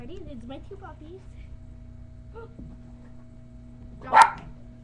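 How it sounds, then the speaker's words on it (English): Two puppies barking and yipping during a game of fetch with a ball, a short loud burst near the end following a person's voice giving commands. "It's my two puppies."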